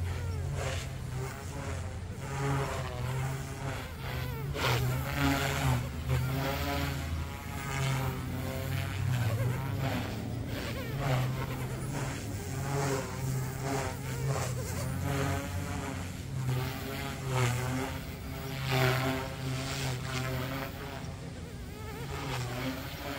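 An OMPHobby M2 EVO RC helicopter flies at its highest head speed, a continuous high-pitched buzzing whine that rises and falls with each manoeuvre over a steady rotor drone.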